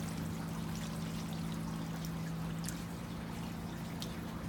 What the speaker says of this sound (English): So you want to make sure that you're gonna fill it all the way up to the top